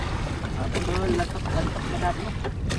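Steady wind gusting across the open sea around a small fishing boat, a continuous broadband roar buffeting close to the microphone, with a voice talking over it.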